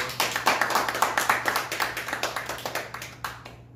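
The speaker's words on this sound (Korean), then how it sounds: "박수해 주세요" Applause from a church congregation during a Sunday worship service, a scattered patter of hand claps going steadily for a few seconds at moderate level, with no talking.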